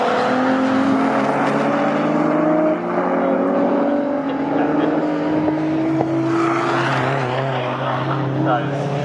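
Classic VW Cup and MG Metro Cup race cars run at Snetterton circuit, their engines droning steadily with rising and falling pitch as they circulate close together, under a commentator's continuous talk.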